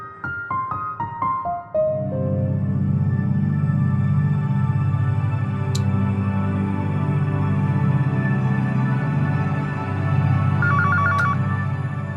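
A telephone rings: a descending run of electronic tones gives way to a steady, loud droning ring that continues for several seconds, with a brief trilling chime near the end.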